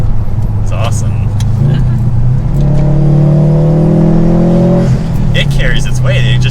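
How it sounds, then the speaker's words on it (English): A Subaru WRX STI engine rumbles loud and close, rising in pitch as it revs with induction whoosh over the exhaust drone, while people talk over it. "the rumble is amazing, and a little bit of blow off and induction noise."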